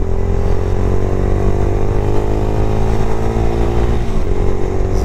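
A Daelim Daystar 125 motorcycle drones steadily and loudly while riding, its engine tone holding even with a slight pitch shift near the end and rushing wind noise beneath.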